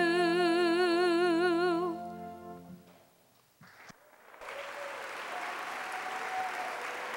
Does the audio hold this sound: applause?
yes